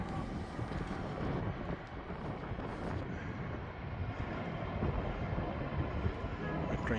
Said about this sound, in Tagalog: May train doon.